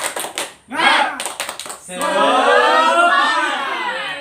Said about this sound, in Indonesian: boleh kita tepuk semangat dulu ya?